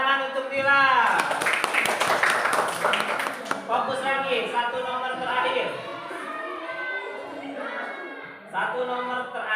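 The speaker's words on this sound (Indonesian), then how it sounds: "Tepuk tangan untuk Dila." Children clapping in a classroom, a burst of close applause in the first few seconds that fades into chatter and voices.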